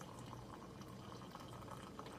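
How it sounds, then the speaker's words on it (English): Coffee poured from an OXO Barista Brain carafe into a cup, a quiet, steady trickling flow of liquid with faint splashy detail, heard alone. "So I'm going to go ahead and pour a cup here."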